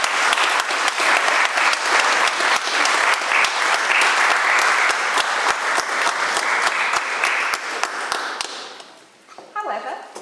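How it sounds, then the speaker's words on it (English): Wedding guests at a ceremony in a hall break into sustained, lively applause lasting around eight seconds, many hands clapping together, before it fades out and a little talk is heard in the quieter tail. "I think we'll have a round of applause."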